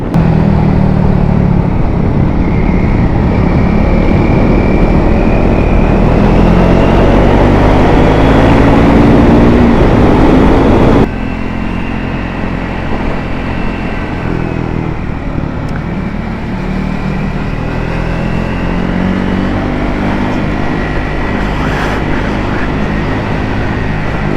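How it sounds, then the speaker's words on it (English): Triumph Speed 400 motorcycle on its stock exhaust, a loud close engine drone with rising and falling revs during passing on a winding road, heavy wind rumble throughout and a drop in level about halfway through. "it does give you a chance to say that the bike does sound great stock"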